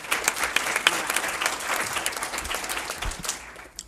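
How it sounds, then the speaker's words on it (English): A symposium audience at an environmental action summit claps for a workshop leader, with moderately loud, uneven applause that starts to fade near the end. "Rachel Hood, round of applause."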